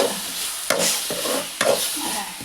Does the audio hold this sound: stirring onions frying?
yes